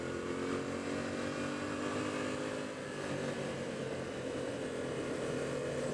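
A Yamaha R6 motorcycle runs at a steady, droning engine note, with wind roar all the way through and no talking.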